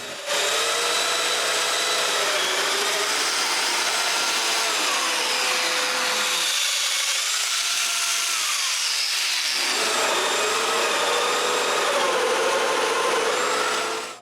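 Domino joiner cutting mortises into a live edge wood fireplace top, a steady close motor whine that drops briefly in pitch mid-run as the cutter bites, then returns, with no talk.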